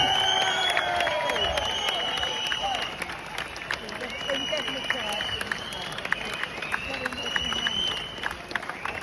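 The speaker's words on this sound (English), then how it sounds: "Please give her a massive round of applause." An audience breaks into sustained applause mixed with cheering and crowd babble, a steady dense wash of clapping heard at moderate distance for several seconds.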